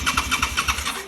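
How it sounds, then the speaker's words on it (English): Suzuki SV650 motorcycle with dummy battery and airbox removed, dosed with starting spray, cranking over in a rapid rhythmic churn of about seven strokes that fails to catch, close and fairly loud, with no talk. "a bit of magic squirt to fire her into life"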